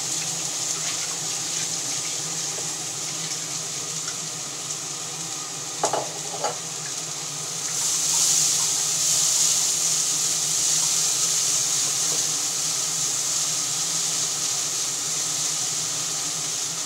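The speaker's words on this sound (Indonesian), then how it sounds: "Ini ibu tumis sayur togenya ya" Bean sprouts being stir-fried in a pan in a home kitchen, with a steady close sizzle and occasional scraping of the spatula, brightening into a louder hiss partway through.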